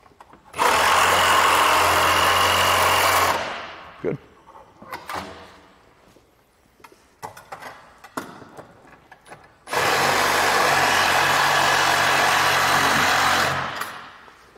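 A Sawzall reciprocating saw cuts through a hinge in two loud, sustained runs of about three seconds each, rasping harshly up close. Between the runs come quieter clicks and handling noises.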